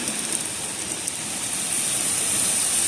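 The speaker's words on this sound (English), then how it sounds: "The rain's coming down pretty good." Heavy rain pours down steadily during a pop-up thunderstorm, a dense, continuous hiss that stays loud and even and swells slightly toward the end, with no voices.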